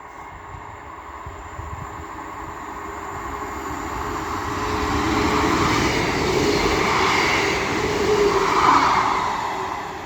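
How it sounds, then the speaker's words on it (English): A Class 158 diesel train on a Leeds to Wigan Wallgate service passing through Castleton station, a steady broadband rumble that slowly builds and swells as it draws near, with no voices. "The next train to be coming through will be another Class 158 running from Leeds to Wigan Wallgate"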